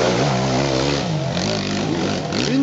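A KTM enduro motorcycle engine revs loudly and continuously at an endurance race, its pitch rising and falling through several throttle blips over a steady roar.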